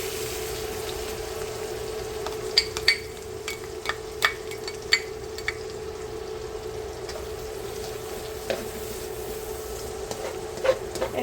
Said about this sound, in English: I'm going to go ahead and add that onion, red pepper, and green pepper.